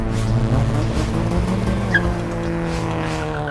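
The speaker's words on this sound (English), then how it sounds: "It sounds like racing cars." Racing cars on city streets, a loud engine drone with tires squealing and skidding, one sharp screech standing out, close and sustained throughout with no voices.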